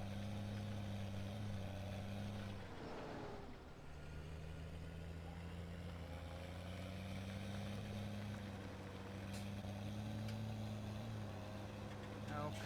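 A tractor pulling a cultivator in Farm Simulator 17 drones with a steady low engine hum, with a brief dip partway through, while someone talks over it.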